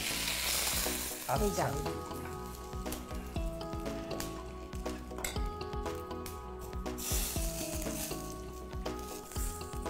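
Dal frying in a pan after ginger paste is added gives a strong, continuous sizzle near the mic, broken by clattering spoon stirs and knocks against the pot.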